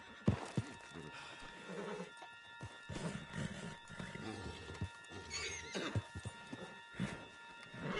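Horse in the Red Dead Redemption 2 video game snorting and whinnying close by, with hooves clip-clopping over a steady background hum and faint voices.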